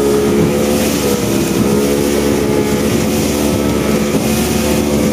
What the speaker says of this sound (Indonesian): korang boleh tengok kelajuan Yamaha 90 horsepower guysku